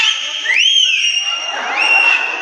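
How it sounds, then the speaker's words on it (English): Clear, shrill whistled notes with rising and falling pitch slides, repeated twice in quick bursts, loud and close. "a whistle."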